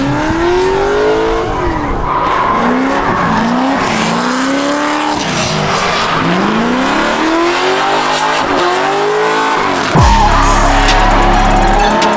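Race cars drift hard around a track, engines revving and bouncing through rising and falling pitches with tire squeal mixed in, loud and continuous, ending in a sudden closer blast of noise.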